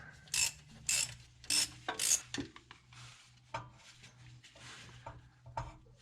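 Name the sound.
loosening mounting nuts on Model A rear end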